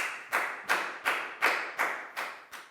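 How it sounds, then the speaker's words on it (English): Rhythmic clapping during a Year 4 maths class round of applause: seven crisp, evenly timed claps, close and clear, with no speech over them. "And a big round of applause for everyone"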